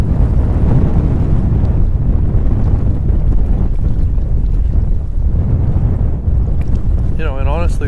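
Strong wind buffets the microphone continuously while fishing from a boat, a loud low rumble with water and hull noise underneath, and a brief whistle-like warble near the end.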